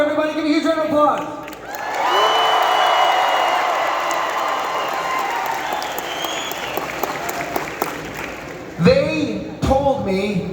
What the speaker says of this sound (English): Here they come, everybody, give a huge round of applause.